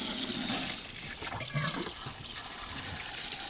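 Water gushes steadily from a car's heater core hose during a flush, a loud continuous rushing and splashing with no talk over it.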